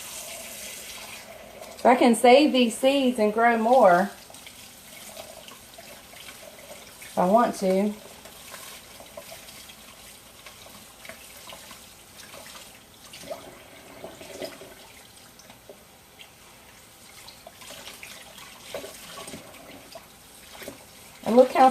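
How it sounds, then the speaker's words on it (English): Tap water runs steadily into a kitchen sink to fill it for soaking a homegrown loofah sponge, a soft, continuous wash heard beneath a person talking at intervals. "Just going to run a sink full of water."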